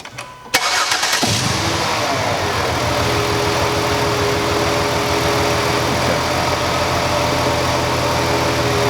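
A car engine cranks and catches, then settles into a steady, loud idle with an uneven, stumbling beat from a misfire on several cylinders caused by an ignition fault.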